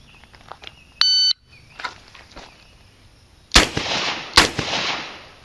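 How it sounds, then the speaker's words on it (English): Two sharp, loud revolver shots about a second apart follow an electronic timer beep during a law-enforcement revolver qualification, fired from kneeling at targets 15 yards away. "Draw, kneel, and fire 1 round on each target in 5 seconds."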